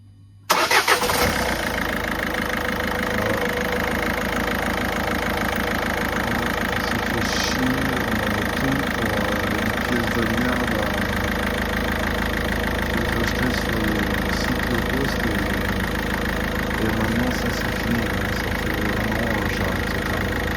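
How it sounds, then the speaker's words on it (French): A Peugeot 207 1.6 HDi diesel engine cranks and fires after a brief silence, then settles into a steady, loud, close idle with a clattery diesel knock that runs unbroken for about twenty seconds, no voices. "on va tester le démarrage"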